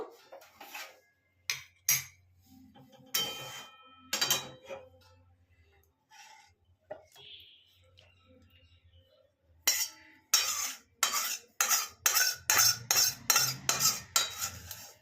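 Cooked charsi chicken is scraped out of a cooking pan into a serving dish, with scattered utensil clinks early on and then a quick, close run of repeated metallic scrapes and knocks.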